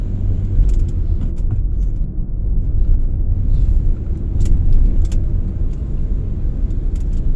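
A car drives on a road near a red light on the way from Kenjeran toward Bangkalan, Madura, heard from inside after shifting gear, with a steady loud low engine and road rumble throughout and faint clicks above.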